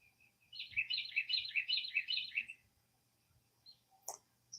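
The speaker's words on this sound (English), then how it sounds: "That bird right there is the one that's so loud. It's a little bitty bird" A small bird's loud dawn song: a rapid run of bright, high chirps repeated close by for about two seconds, then quiet with a couple of faint calls and a sharp note near the end.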